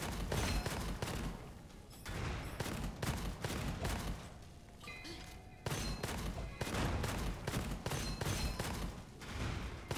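Gunfire in the shooter game Gunfire Reborn, heard as bursts of rapid, repeated shots, mostly steady with a short lull midway, at fairly low level with little talk over it.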